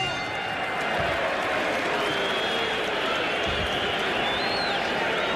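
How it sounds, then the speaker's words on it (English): Crowd at a heavyweight boxing bout between Mike Tyson and Steve Zouski keeps up a steady wash of applause and cheering throughout, with a commentator's voice running over the noise. "the crowd is applauding the courage of Steve Zouski"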